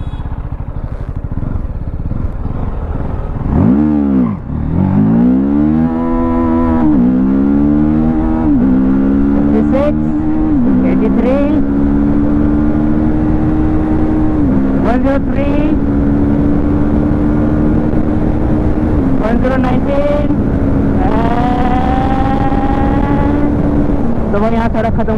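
A TVS Apache 310 motorcycle pulls away in first gear, its engine note climbing steadily as it revs up and gains speed. The engine is close and loud throughout.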